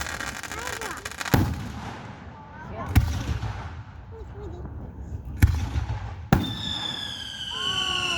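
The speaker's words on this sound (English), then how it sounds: "Fireworks." Fireworks burst at a USA 250th Independence Day celebration at Charley Brown Park in Flora, four sharp booming bangs a second or two apart, with crackling tails and people talking and whistling in between.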